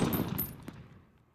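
Rapid gunfire from a weapon in the VR video game Sports Mode VR: a loud burst of shots at the start that trails off into a fading echo, with one more sharp crack before the tail.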